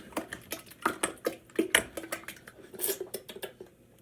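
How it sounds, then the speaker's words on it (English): A spoon scrapes and clinks against a container while honey, sugar, peaches and mangoes are stirred for mead, an irregular series of close, sharp knocks and scrapes. "And we're going to just kind of stir it around real quick"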